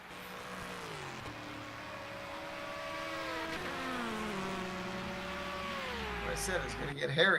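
GT race cars battling closely on a track during an endurance race, engines droning loudly with shifting, overlapping pitches and a rising roar toward the end as another car nears, with commentary voices over it.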